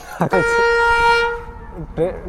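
A train horn sounds a long steady tone, loud and close, with voices talking before and after it.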